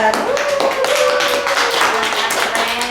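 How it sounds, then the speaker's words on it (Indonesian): A small group claps for a guest during a podcast session, a dense burst of hand claps that fills the moment, with faint tonal sounds underneath. "Tepuk tangan dulu untuk Irfan."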